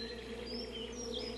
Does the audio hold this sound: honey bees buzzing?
yes